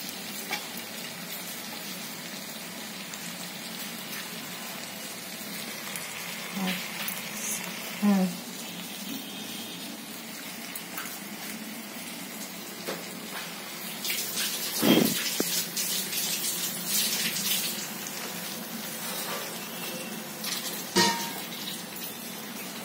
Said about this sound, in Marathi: पाणी टाकलं थोडंसं शिजायला